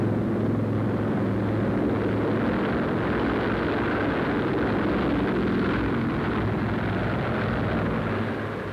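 Four huge piston engines of the Navy's Mars experimental flying boat, a giant amphibian, drone in a continuous heavy rumble, loud and steady throughout with no voices over it.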